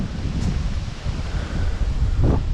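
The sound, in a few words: wind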